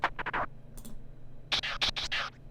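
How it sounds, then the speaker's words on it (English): Record-scratch effects in a phonk beat built in Ableton, a series of short rough swipes in two quick bursts, fairly soft over a low steady bass hum. "the scratches in the background, and they somewhat correspond."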